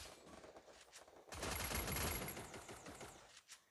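Thompson submachine gun fire in a video game, a sudden loud burst of rapid automatic shots that sustains for over a second and then trails off into scattered fainter cracks.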